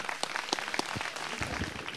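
A crowd claps steadily for the Alpini mountain troops at a torchlight procession in Rezzago, Italy, at moderate distance, a dense patter of applause without any voices over it.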